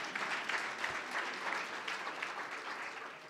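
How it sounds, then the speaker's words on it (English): A crowd at a scholarship and awards luncheon claps continuously, a dense, even applause that holds steady throughout with no voices over it. "go ahead, you can clap because that's the truth."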